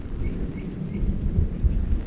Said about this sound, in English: We've got hail everywhere.